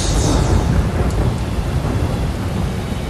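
Loud, continuous rain and thunder, a dense roar of heavy rainfall with deep rumbling throughout, close and steady with no voices.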